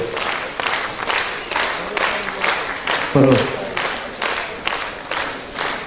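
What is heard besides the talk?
audience applause and ovation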